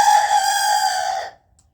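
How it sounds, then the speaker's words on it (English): A rooster wearing a no-crow collar gives one loud, close crow that holds strongly for about a second before cutting off abruptly into silence. "It's because he has the no crow collar on that prevents his crow from being louder than it already is."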